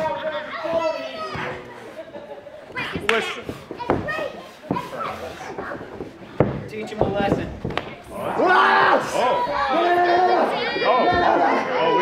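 A lively crowd, many of them children, shouts and cheers at a cosplay wrestling match between Bane and Spider-Man, with loud calls, chatter and occasional thuds.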